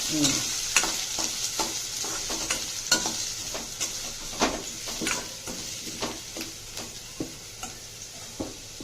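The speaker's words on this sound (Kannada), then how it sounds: "ಓಕೆ, ಮೆಣಸಿನ್ಕಾಯಿ ಹಾಕಿ ಫ್ರೈ ಮಾಡ್ಕೋಬೇಕು." Green chillies and onion frying in a pan for poha, a soft steady sizzle broken by rhythmic scraping stirs of a spoon at close range.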